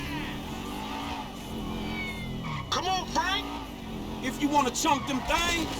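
A car driven in Grand Theft Auto V, its engine humming steadily before revving and whining in rising and falling sweeps with tire noise near the end, while someone talks over it.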